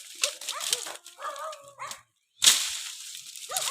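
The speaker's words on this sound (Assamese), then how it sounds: "এইফালৰ পৰা কুকুৰে ভুকি আছে" A dog barks and yips in short bursts at an outdoor spot near a riverbank, with a brief silence partway through and a louder burst after it.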